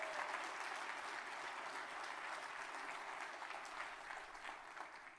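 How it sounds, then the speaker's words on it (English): Steady audience applause at a university event honouring a women's basketball program, a dense, even patter of many hands that holds level throughout and fades slightly near the end. "Let's give them a round of applause."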